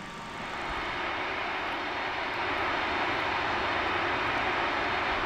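Roaring jet engines of a Maddog X MD-82 airliner in flight in the Prepar3D simulator, a steady, loud, broadband drone that swells slightly at the start and holds constant throughout, with no talking.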